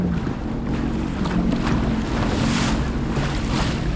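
Swell breaking on a sandbank about 50 metres off in Moreton Bay, heard as a steady, distant wash of surf under heavy wind rumble and the hiss of a water vehicle, with no voices.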